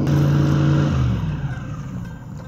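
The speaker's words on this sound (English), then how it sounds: "I got an airboat coming, so I gotta watch out." An airboat passes by on Rocky Creek in Florida with a loud, steady engine and propeller roar close by that slowly fades and lowers in pitch as it moves away.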